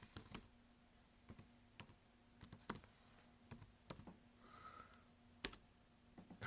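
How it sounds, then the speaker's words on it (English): Keys on a computer keyboard are tapped one at a time at a steady, unhurried pace while a command is entered on a Linux bootloader line, giving faint, close, sharp clicks with short pauses between them. "I'm going to put a space here and type in persistent."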